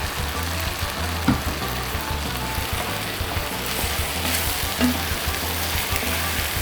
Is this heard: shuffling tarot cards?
no